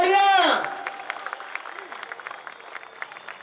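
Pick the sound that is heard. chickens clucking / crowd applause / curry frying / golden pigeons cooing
crowd applause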